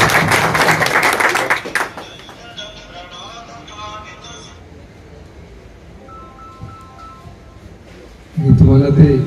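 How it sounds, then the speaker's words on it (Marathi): An audience at a political public meeting claps in a brief dense burst of applause, then it dies away and someone speaks over a quieter background. "त्याबद्दल जोरदार टाळ्या."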